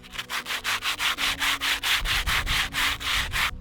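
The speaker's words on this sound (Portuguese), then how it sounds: "eu venho com a lixa para fazer esse acabamento entre a C3 e o pilar que já estava aqui" Hand sanding with sandpaper on a wooden fence post of a sheep corral, about fifteen quick rhythmic back-and-forth rasping strokes, close and fairly loud, with no talk.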